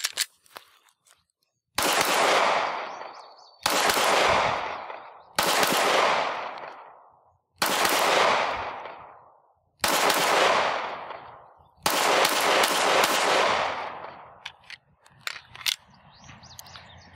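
A handgun fitted with a Holosun EPS Carry optic fires six loud, close shots about two seconds apart, each blast ringing out and decaying, with faint birdsong between them outdoors.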